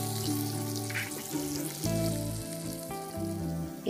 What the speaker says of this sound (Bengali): 1 চামচ তেলের মধ্যে চিনি দিয়ে দিচ্ছি